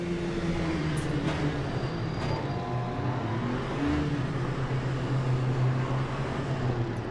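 An LMP2 prototype race car engine in the sim racing game Le Mans Ultimate, a steady low drone with a sustained hum and faint high whine, continuous and fairly quiet throughout.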